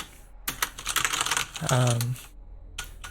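Quick clusters of computer keyboard keystrokes clatter close by in short bursts, with a pause near the end before a few final taps, while a voice talks over part of it.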